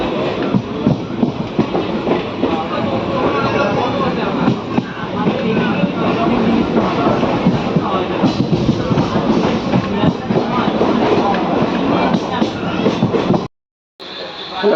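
A passenger train on the Malda to Balurghat run in India rumbles steadily and loudly with rhythmic clatter, as if from on board, with voices mixed in throughout and a brief dropout near the end.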